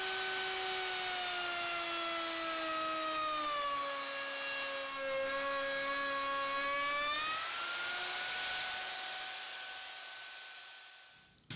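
A router fitted with a thumbnail edge bit cuts a table edge in wood, giving a steady high whine that dips and rises in pitch as it is pushed along, loud and close, with no talk.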